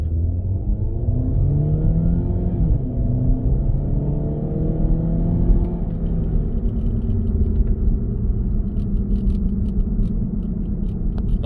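A 2015 VW Jetta with a freshly swapped engine pulls along the road, its steady rumble climbing in pitch as it accelerates, then settling into an even cruising drone with no talk.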